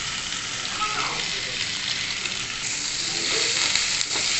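Paneer frying in hot mustard oil with lemon juice and salt, a continuous close crackling sizzle with occasional scraping stirs.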